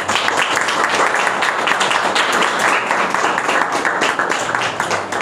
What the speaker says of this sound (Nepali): तारिफ गरौँ परमेश्वरलाई, सबैले ताली बजाएर